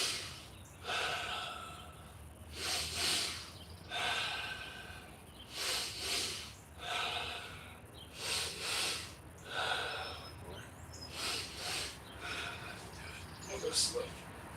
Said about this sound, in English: Let me get my breathing.